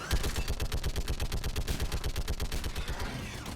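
A video game gun fires rapid automatic bursts in a fast, even rhythm of loud close shots that continues for several seconds.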